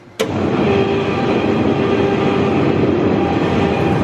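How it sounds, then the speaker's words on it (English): A new double-run grain pump auger at a grain bin starts with a sharp onset and then runs as a steady, loud mechanical roar with a constant hum, close by and without talk. "we're gonna fire up the new double run, the grain pump, auger"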